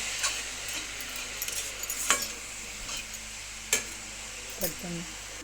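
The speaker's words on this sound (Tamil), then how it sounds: "கொஞ்சமாக உப்பு போட்டு நல்லா வதக்கிக்குவோம்" Mushrooms sautéed with a little salt in a pan for a mushroom kootu give off a faint sizzle, with a few sharp spatula taps and scrapes spaced out over several seconds, quiet and close with no talk.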